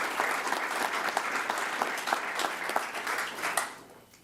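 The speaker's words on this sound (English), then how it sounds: "So I'd like to give them a round of applause for what they've done there." Audience at a public school board meeting applauds high school golfers, a dense, lively roll of many hands clapping that holds steady and then tapers off near the end.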